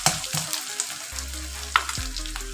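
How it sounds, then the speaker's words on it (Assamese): Ginger garlic paste frying in a pan, a soft close sizzle broken by a few sharp scraping stirs of a spatula. "একেবাৰে ধুনীয়াকৈ ৰঙচুৱা হোৱাকৈ মই ভাজি ল'ম।"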